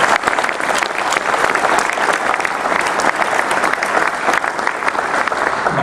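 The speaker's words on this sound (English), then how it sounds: "I'd like everyone to join me in a round of applause for John Blackstone and PRRI" A large audience at the 2017 ASA presidential address breaks into sustained applause, dense and even clapping from a full conference hall that holds steady from start to finish.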